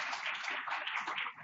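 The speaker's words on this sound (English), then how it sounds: "Why don't we give a huge round of applause for this amazing panel." Applause for a panel at the close of an arts-in-education webinar forum, a steady, faint wash of many hands clapping that carries on evenly for over a second.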